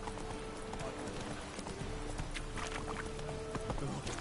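Horse hooves clip-clop steadily in The Witcher 3, a rhythmic trot heard close over a busy game soundscape, with faint voice-like sounds mixed in.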